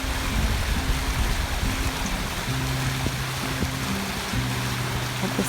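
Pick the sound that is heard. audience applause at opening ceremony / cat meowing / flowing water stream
flowing water stream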